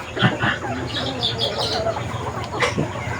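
Chickens cluck and squawk nearby in short, scattered bursts over a busy outdoor background during a rescue operation.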